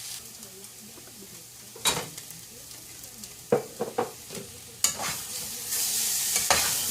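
Peppers, onion and tomato cooking in a pan, a soft steady sizzle broken by scattered utensil scrapes and taps, with a louder hiss near the end.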